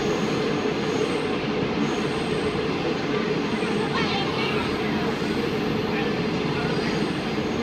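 A train running on rails in China makes a continuous rumbling, rattling noise from inside a carriage, steady and fairly loud throughout, with faint squeaks and no clear voices.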